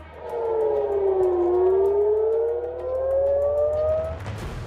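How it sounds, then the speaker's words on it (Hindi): A wartime civil defense siren wails across Israel, a long rising and falling tone that carries steadily and seems somewhat distant, with a faint background rumble. "Can hear the sirens are going off right"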